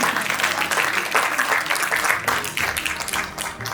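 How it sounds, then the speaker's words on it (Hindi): Sustained audience applause at a retirement celebration, dense clapping from a crowd that keeps going steadily, with faint voices mixed in. "तालियां बजती रहे, रुके नहीं।"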